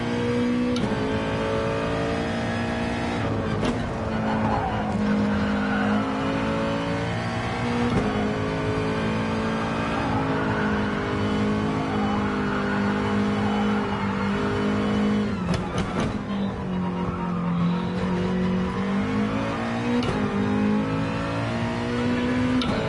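Rally car at Alsace accelerating hard with wheel spin, a loud, steady engine drone with rising and falling revs and gear changes across the whole stretch, close and continuous with no talk.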